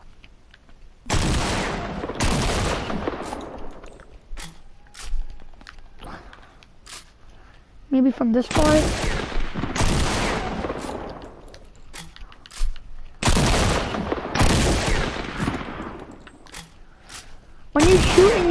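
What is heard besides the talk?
gunshots from a video game, shooting at llamas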